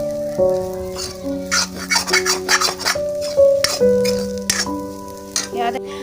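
Food sizzles steadily in a wok while a utensil scrapes and stirs in repeated strokes, close up, with a faint musical tone underneath, as a samosa filling is fried until dry.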